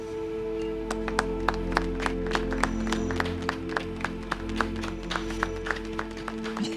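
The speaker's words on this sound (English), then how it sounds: "Little golf claps. Very polite." Sparse, polite golf-clap style applause from a small crowd in a Babylon 5 episode, individual crisp claps spaced irregularly over a steady low hum and faint background tones, fairly quiet and unhurried.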